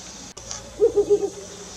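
A mottled wood owl gives a quick run of four low, hollow hoots at close range, following a faint click, with no talking.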